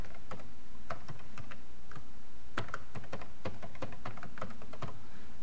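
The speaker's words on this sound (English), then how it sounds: "So now I'm just entering a username and password for the schema I want to connect to." Fingers type a username and password on a computer keyboard, tapping out quick, uneven clusters of close, crisp keystrokes with short pauses and no talking.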